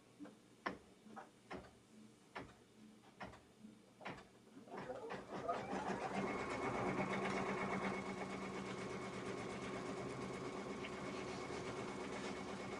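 A sewing machine stitches out a summer banner border, starting with slow, separate ticking stitches that speed up into a continuous, steady mechanical whir, close and fairly quiet.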